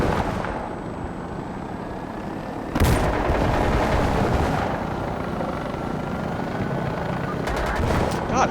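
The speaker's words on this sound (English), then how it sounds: "Who the fuck is shooting at me?" Gunfire and booming explosions in the military shooter Insurgency Sandstorm, with loud bursts over a constant helicopter-like rumble and a sharp jump in loudness partway through.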